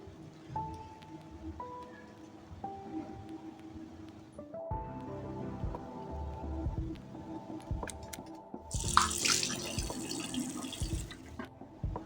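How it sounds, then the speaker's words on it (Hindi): Tap water runs steadily into a bathroom sink as a face is washed at night, with splashing and a brief louder gush near the end, close and fairly quiet, no talking. "जल्दी से अपना थोपड़ा धो लेते हैं"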